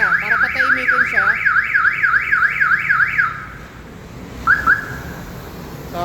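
A Mitsubishi L300 FB van's car alarm wails loudly in a rapid rising-and-falling siren for about three seconds, then stops, followed by a brief single chirp of the alarm a moment later.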